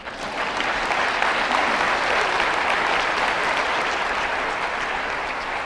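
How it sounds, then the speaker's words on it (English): Convocation audience breaks into steady, dense applause that fills the hall at full volume, many hands clapping continuously for several seconds with no voices standing out. "Yes, this is where you clap."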